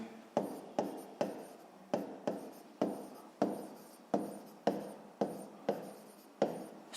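A pen writes a math answer on paper in quick, repeated strokes. The faint, close scratching falls in an even rhythm of about a dozen short bursts, with no talking.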